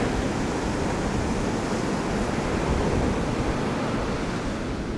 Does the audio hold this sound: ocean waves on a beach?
yes